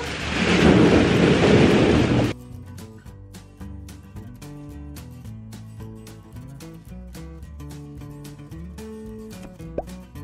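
A shower of plastic balls pours into a game-show ball cabin in a loud, dense rushing clatter for about two seconds, then stops abruptly and music continues alone.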